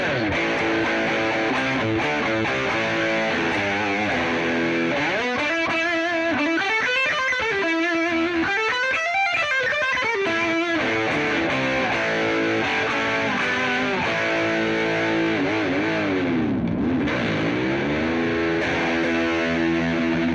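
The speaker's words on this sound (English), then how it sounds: "I like to add a little distortion to this one though." Electric guitar through a humbucker bridge pickup with distortion, playing sustained, saturated notes and bending melodic lines, loud and continuous with no talking.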